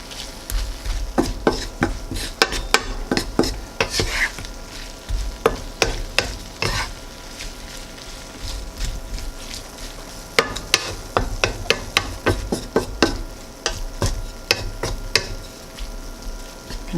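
Tempeh pasta being stirred and spread out in a hot pan, with a steady sizzle under repeated clattering scrapes of a utensil against the pan, close and fairly loud.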